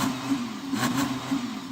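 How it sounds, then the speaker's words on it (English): An Audi R8 engine revs steadily on a winter drag-race setup, a loud, sustained mid-pitched drone with slight surges in intensity over a couple of seconds. "Can you rev up your engine, Daniel?"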